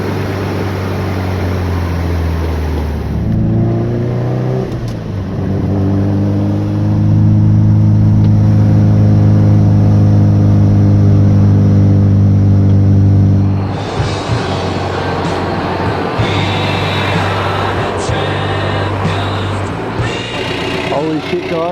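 A newly bought car's engine starts up and runs close by, climbing into a loud, sustained rev in the middle before dropping back to a rougher idle, with voices talking over it.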